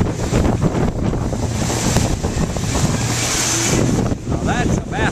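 A small boat speeds across open water, with heavy wind buffeting the microphone over a constant rush of water and engine noise, and a faint voice near the end.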